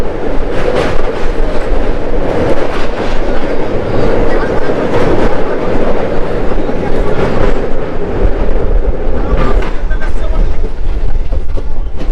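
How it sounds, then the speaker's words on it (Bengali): The Kolkata–Lalgola Hazarduari Express pulls out of Krishnanagar City Junction with a loud, steady rumble and repeated clickety-clack of wheels over rail joints, and a voice talks now and then over the noise. "8:52 ট্রেন কৃষ্ণনগর সিটি জাংশন থেকে ডিপারচার করলো।"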